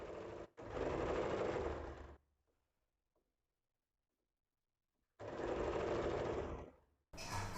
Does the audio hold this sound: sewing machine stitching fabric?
yes